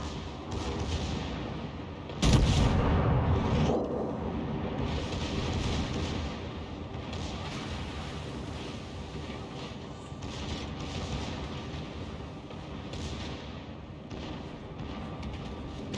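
Naval guns from battleships in a naval combat video game boom out in a loud salvo early on, followed by a sustained rumbling roar of battle with further distant firing.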